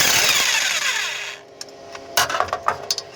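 Driveshaft bolts being removed on a 2003 Toyota Highlander, a loud whirring power-wrench burst that winds down, followed by a series of sharp metallic clicks and taps close by.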